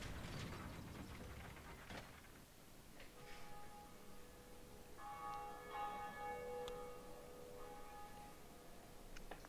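Tolling bell in the Dark Souls video game, struck a few times with sustained ringing tones over a mechanical ratcheting, gear-like background, no talk.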